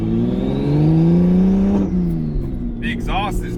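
A BMW 335i with an N54 engine, Precision 6766 single turbo, Precision coils, Black Market intake manifold and hood-dumped exhaust, revving loudly close by. Engine pitch climbs, holds, then drops with a turbo whoosh, and a voice speaks over it.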